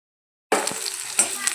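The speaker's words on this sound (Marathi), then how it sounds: "जिरं लसूण छान असं भाजत आलेलं आहे" Crushed cumin, garlic and ginger sizzle and crackle steadily in oil in a pan after a sudden start, with a few scraping stirs partway through.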